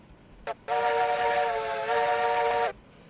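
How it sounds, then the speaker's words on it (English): A steam locomotive whistle in the video game RailRoads Online blows once, loud and steady for about two seconds, after a brief short toot; no talking. "So you can hear the whistle way back here"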